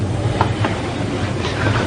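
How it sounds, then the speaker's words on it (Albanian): A train rolls past on rails with a continuous rumble and a rhythmic clickety-clack of wheels, loud and fairly near. "Treni pa afron?"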